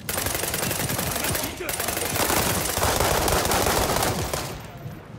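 Video game gunfire crackles in a dense, continuous stream of rapid automatic shots for several seconds, loud and close, tapering slightly at the end while a voice speaks over it.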